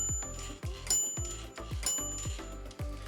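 Brother 440TR manual typewriter, carriage bell dinging amid steady typing, about half a dozen bright rings spaced through a short run of key strikes, close and fairly quiet.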